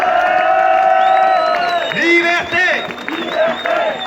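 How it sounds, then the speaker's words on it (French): A crowd at a street demonstration outside the National Assembly in Paris cheers, whistles and applauds loudly, with many overlapping voices and shouts close by. "On peut applaudir très fort Claude Janvier"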